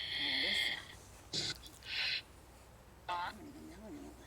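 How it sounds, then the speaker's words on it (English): An owl hooting at night in a cemetery in Lincoln, Kansas: a few faint, distant hoots spaced apart, with scattered noise bursts and quiet voices around them. "Yeah, I heard an owl."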